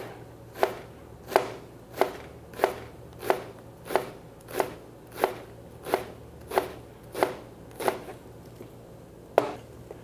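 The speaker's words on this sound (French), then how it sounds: "des petits cubes pour bien ciseler l'oignon" A knife finely dicing an onion into small cubes on a cutting board: about fourteen crisp, evenly spaced chops at a steady moderate pace, close and clear over a faint background hum, with no talk.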